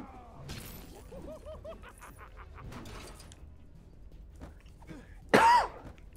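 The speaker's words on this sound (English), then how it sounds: "sorry I'm coughing guys" A person with a chest infection coughs in one loud, harsh burst near the end, following a stretch of quieter voice sounds and background game noise.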